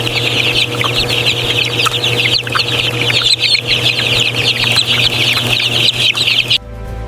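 Broiler chickens on a poultry farm cluck and chirp continuously as a dense, close flock over a steady machinery hum, until the sound cuts off abruptly near the end.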